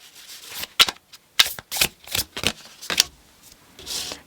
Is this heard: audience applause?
no